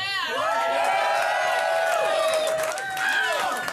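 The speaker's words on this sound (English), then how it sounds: "Pause for applause with me" A crowd cheers loudly with rising whoops and whistle-like shouts, a steady roar of voices carrying for several seconds during a comedy drinking show.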